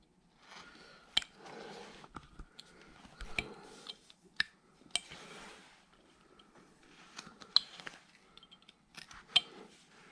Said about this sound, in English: I'm going to take a little bitty triangle cut out right in here.